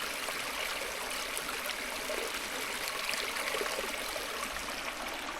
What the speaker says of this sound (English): And then just over here, we got our creek.